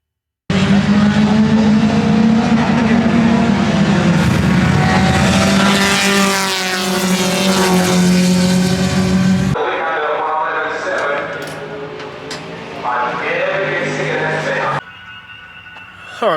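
A 1969 Camaro race car with a 700-horsepower engine revving to about 7,500 RPM roars loudly from inside the car, its pitch sweeping up through the gears before dropping abruptly, with later gear changes and a quieter idle.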